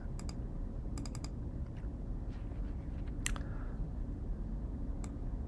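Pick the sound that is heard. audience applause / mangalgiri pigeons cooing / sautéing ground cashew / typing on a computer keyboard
typing on a computer keyboard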